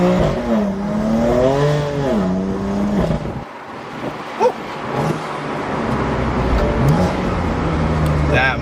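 BMW M2 Competition with DCT gearbox accelerating hard, engine note climbing and shifting in repeated sweeps, loud and close from the cabin, with someone talking and exclaiming over parts of it.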